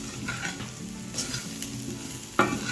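Cooked potatoes coated in ground spice powder and rock salt are sautéed in a pan, giving a close, continuous sizzle with soft stirring scrapes and a sharper clatter near the end of a short burst, without talk.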